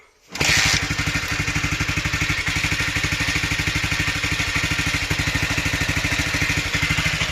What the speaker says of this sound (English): with this CB250RS, you have to put the peg up to kick her over